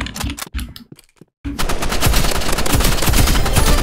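Gunfire in a Roblox first-person shooter game: a few loud shots, a brief silent gap, then sustained rapid machine-gun fire, close and dense to the end.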